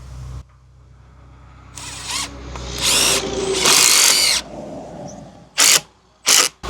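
A power drill drives a screw into TimberTech Classic Composite Series deck railing. Loud, close whirring bursts ramp up and cut off, ending in two short, sharp spins.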